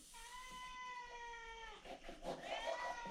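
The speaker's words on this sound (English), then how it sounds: "And also Kitty wants some meat." A cat meows for meat in a kitchen where beef stew is being cooked, giving one long drawn-out meow and then a rising second cry, close and clear.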